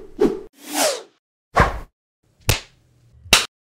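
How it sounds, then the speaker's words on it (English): Medieval weapon effects from a free sample pack: five separate swishes and sharp hits, like blades whooshing through the air and striking, spaced apart and moderately loud, with no voices. "The next one, it's called Medieval Weapons Sound Effects."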